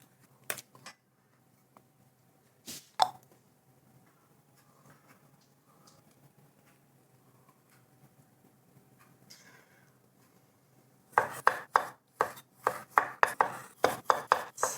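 A knife chopping onion into small pieces on a board, a few isolated cuts early and then a quick run of rhythmic chops near the end, close and crisp.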